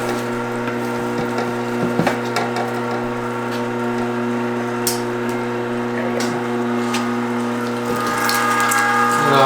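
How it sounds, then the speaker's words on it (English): An electric meat grinder grinds venison for breakfast sausage, running as a steady motor hum with crunching and clattering from the feed, close and loud throughout. "Obviously try to not stick your hands into the meat grinder."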